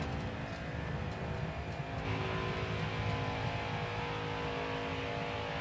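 Truck engine roaring on a qualifying lap in NASCAR Heat 5, a loud, continuous onboard drone that climbs in pitch as it accelerates, close and alone without talk.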